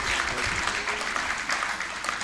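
Many people in a graduation ceremony crowd clap together, a thick sustained round of applause at an even level with faint voices mixed beneath.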